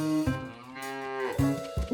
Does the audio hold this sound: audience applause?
no